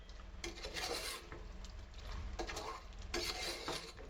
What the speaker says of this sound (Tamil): எடுத்துட்டு நல்லா கிண்டி விட்டுருங்க